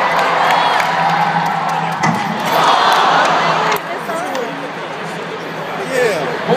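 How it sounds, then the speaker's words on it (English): An arena crowd roars and whoops during a live NBA slam dunk contest, loud and sustained with shouts and some clapping, and voices talk close by over the din. "Let's cheer him on,"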